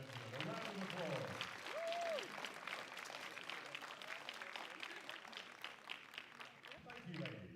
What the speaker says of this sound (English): For the best team, ladies and gentlemen, a round of applause.